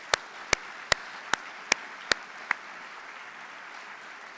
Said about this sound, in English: please join me in giving those faculty advisors a huge round of applause